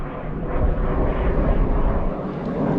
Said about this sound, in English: Look at that aeroplane. That's like a jet fighter.